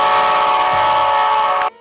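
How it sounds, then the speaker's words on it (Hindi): Train horn sound effect for a cartoon train, one loud, steady blast held for almost two seconds before cutting off abruptly, with no talk over it. "यहाँ पर उस हॉर्न वाले साउंड इफेक्ट को ऐड कर देंगे"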